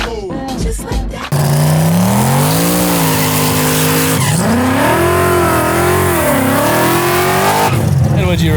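An 800hp Fox Body Mustang and a 1000hp junkyard Nissan Hardbody drag race, engines roaring loud and steady with rising, falling revs for several seconds after a brief burst, voices talking over the start.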